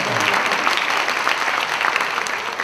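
A church congregation at a university-group Sunday sermon breaks into warm, steady applause, a dense wash of clapping that holds evenly from start to finish with no voices standing out.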